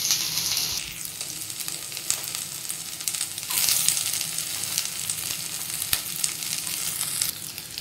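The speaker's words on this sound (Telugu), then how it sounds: "ఫ్రై చేసిన ఆయిల్ని కొంచెం ఉంచాను. కొన్ని ఆనియన్స్ అయితే వేస్తున్నా." Sliced onions fry in reused oil in a pan as part of a home-cooked Gobi Manchurian. A continuous close sizzle and crackle runs throughout, with a few brief stirring bumps and no voices.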